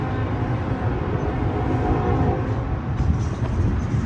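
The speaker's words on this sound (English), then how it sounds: "I hear the train a-rolling." A train rolls along the tracks beside a street on the Las Vegas Strip, giving a steady, loud, dense rumble that holds evenly throughout with no talk over it.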